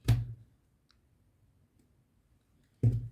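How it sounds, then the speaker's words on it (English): A deck of playing cards is cut by hand, giving two sharp close card slaps about three seconds apart with near silence between them. "now we start to cut the cards like this."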